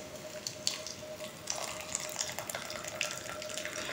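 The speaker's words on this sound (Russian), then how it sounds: "Полный стакан наливаем." Boiling water pours steadily into a glass holding a spoonful of spruce needles, a continuous splashing trickle with small bubbling pops, close and fairly quiet, with no talking.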